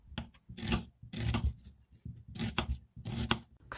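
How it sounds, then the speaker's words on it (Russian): A knife cuts red onion into half-rings for a salad, making close, scraping slicing strokes in four or five short bursts with brief pauses between them. "Красный лук также нарезаю полукольцами."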